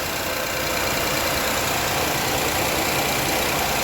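A car engine idles steadily at close range, a continuous even hum with faint knocking texture and no voices.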